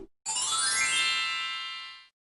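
Phone text message notification: a single bright chime that swells quickly and fades over about two seconds, clear and alone with silence around it.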